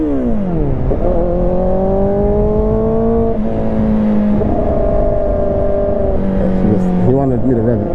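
A car engine revs loudly and close, its pitch sweeping up and holding in several steady stretches with shifts between them, ending in a few quick blips.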